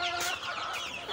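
Backyard chickens cluck and squawk close by while running in to eat cut grass, a short burst of busy, overlapping fowl calls.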